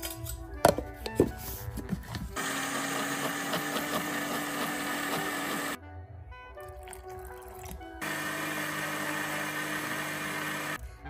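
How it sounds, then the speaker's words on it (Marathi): An electric grinder whirs steadily while finely grinding soaked rice with water, a loud continuous motor drone that stops for a couple of seconds and starts again, preceded by light clinks and taps. "त्याच्यामध्ये पाणी घालून चांगलं वाटायचं बारीक."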